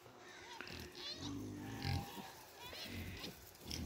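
Pigs on a rainy farm grunt and oink repeatedly at close range, a loose cluster of low snorts and squeals overlapping through the whole stretch.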